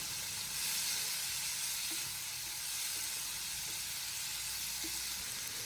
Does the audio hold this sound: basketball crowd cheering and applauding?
no